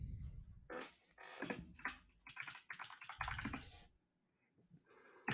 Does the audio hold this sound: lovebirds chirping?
no